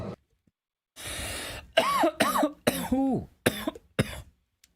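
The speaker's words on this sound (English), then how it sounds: "let me cough." A person coughs and clears their throat in a series of harsh bursts, several close, loud coughs with short gaps between them, alone without talk.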